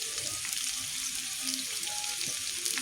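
Potatoes and onions fry together in a pan, giving a steady close sizzle with light crackles and occasional faint clinks.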